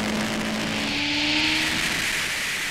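Suzuki B-King motorcycle on a racing circuit accelerating hard after a short shift into third gear, a steady loud engine drone with a rising tone, close and continuous with no talk.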